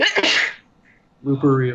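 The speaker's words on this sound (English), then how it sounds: "I'm about to fucking sneeze." A single loud, close sneeze bursts out at the start, followed by a short exclamation and then someone speaking.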